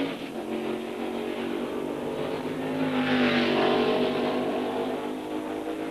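Race car engines drone steadily around an oval at the 1972 Tasman Series round in Adelaide, a continuous roar that swells slightly in the middle as the cars circle, heard from a moderate distance.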